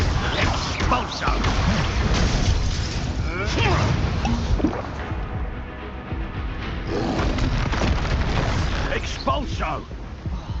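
Repeated Expulso explosion spells blast and crackle during Hogwarts Legacy combat, loud bursts recurring through dense game noise with a voice shouting spell names over them.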